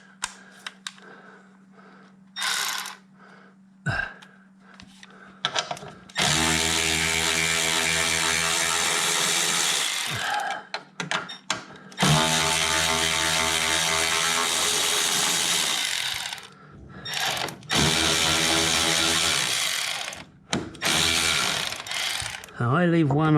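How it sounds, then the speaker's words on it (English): Electric ratchet spinning off front strut nuts on a Mercedes E350, loud whirring bursts of several seconds each, separated by quieter pauses with small clicks and handling noises. "you've got an electric ratchet"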